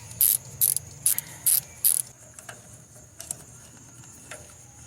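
A ratchet wrench clicks in five quick sharp bursts while loosening a 12mm bolt on the coolant bypass valve of a 2020 Toyota RAV4. A few faint scattered clicks follow over a quiet background.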